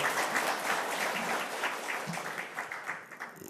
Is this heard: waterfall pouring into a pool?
no